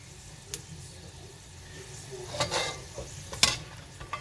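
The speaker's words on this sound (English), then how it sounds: "So just fry the sticks until you get an aroma out of them" Cinnamon sticks fry in hot oil for chicken curry, a steady low sizzle with a few sharp close stirring scrapes and clinks.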